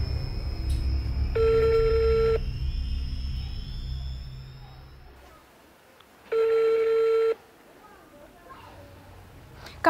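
A telephone rings in two separate electronic bursts, each about a second long, several seconds apart over low background rumble.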